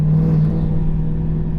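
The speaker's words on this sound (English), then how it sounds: "Now if I give it wide open throttle" A 2025-or-later Chevy Silverado or GMC Sierra HD pickup with a 125-horsepower performance tune, engine held at wide open throttle and building boost; a loud, steady droning roar with a strong low hum, close and continuous, no voices.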